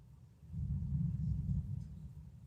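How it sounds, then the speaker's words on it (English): Thunder rumbles outside in a storm, a distant, muffled low roll that swells up after half a second and fades slowly over about two seconds, heard from indoors. "Man, it is thundering like crazy out there."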